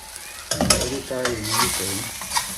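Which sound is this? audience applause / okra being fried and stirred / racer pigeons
okra being fried and stirred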